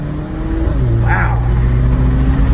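A Porsche Macan SUV engine pulling hard under acceleration, a loud steady roar heard from inside the cabin with the pitch climbing after a brief gear change, continuing without pause.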